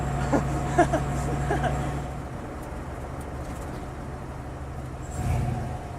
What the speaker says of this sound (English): Engine's running great, transmission's working great.